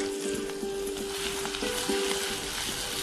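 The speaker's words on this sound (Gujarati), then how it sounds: "અડધી ટીસ્પૂન જીરું નાખીએ." Cumin seeds and finely chopped onion sizzle steadily in hot ghee, a close, continuous frying hiss with occasional soft stirring clicks and no talking.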